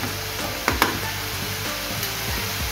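Tomatoes roast in a hot pan for a Goan sardine ambot tik, sizzling steadily and loudly up close, with a couple of brief stirring knocks.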